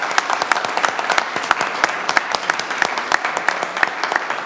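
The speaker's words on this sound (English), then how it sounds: "we want to give you a big round of applause" Close, lively applause at a city council meeting for a young citizen of the community, with many crisp individual claps standing out over a steady roar of clapping.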